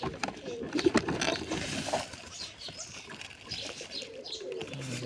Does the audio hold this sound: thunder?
no